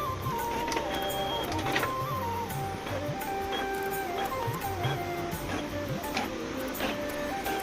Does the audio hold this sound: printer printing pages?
yes